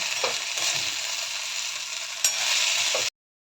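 Hot tempering oil with cumin, mustard seeds and red chilli powder poured over raw mango pickle, giving a steady bright sizzle and crackle with a few pops that stops abruptly.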